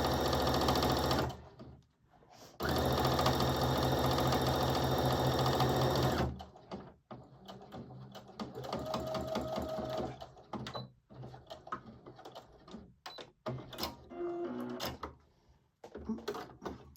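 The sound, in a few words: sewing machine stitching a onesie hem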